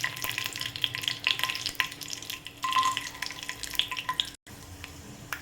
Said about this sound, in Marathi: ते तेल गरम झालेलं आहे आणि शेंगदाणे घालायचे.